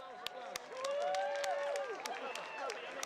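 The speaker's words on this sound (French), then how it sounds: "s'il vous plaît, un tonnerre d'applaudissements." Outdoor crowd at a Swiss August 1st national day ceremony in Versoix near Geneva, clapping and cheering steadily at moderate distance, with sharp individual claps and a whistle-like tone riding over the applause.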